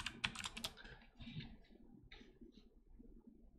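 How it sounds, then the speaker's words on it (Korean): Quick bursts of typing on a computer keyboard during a C programming lesson, soft clattering keystrokes in uneven clusters, fairly faint and close, with no voices. "이거는 코딩 연습이 아니라 타이핑 연습이에요"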